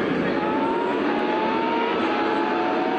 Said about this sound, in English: Now the Formula 1 car won it last time as they roar up the hill again.